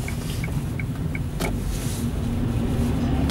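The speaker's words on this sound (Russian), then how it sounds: "Машина дрифтует под этим снегом." A car moves along a snowy winter city street in Tallinn, a steady low engine and tyre rumble throughout, with a brief louder swish near the middle; no talking.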